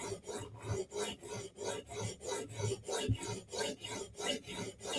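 A Spyderco knife being reprofiled on Hapstone RS sharpening stones, making a quiet, close rhythmic rasping as the blade scrapes back and forth in even strokes, roughly two per second, with no talk.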